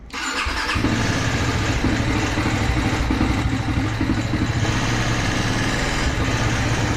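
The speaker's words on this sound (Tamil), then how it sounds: "ஸோ நம்ம வண்டியோட சவுண்டு இப்போ இப்படி தான் இருக்குது." A TVS Apache RR310 motorcycle with a faulty camshaft fires up after a brief crank, then runs at a loud, steady idle close by with a busy mechanical clatter under the engine note.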